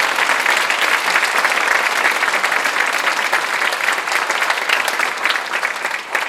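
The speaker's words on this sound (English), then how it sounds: "Give these guys another round of applause." Dense, steady applause from a large audience in a performance hall after a high school band and orchestra concert fills the whole stretch, sustained and even without a break.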